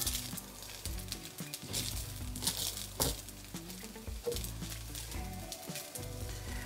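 Salted butter melts and sizzles in a pan of rice with a crackling, spattering fry and soft stirring crinkles, close and fairly quiet, with no speech.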